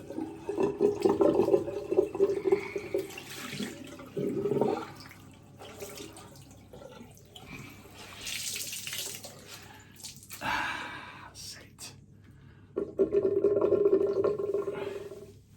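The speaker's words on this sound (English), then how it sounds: "Let's just rinse my cloth out there." A cloth is rinsed under a running tap in a bathroom sink after a shave, with bursts of splashing water, wringing and dripping between louder gushes.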